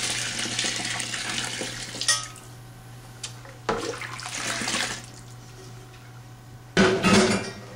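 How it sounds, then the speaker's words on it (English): Melted homemade laundry soap is poured into a half bucket of warm water, making bursts of splashing and gushing liquid with clinks of the container in between. "you pour this into your half bucket of warm water"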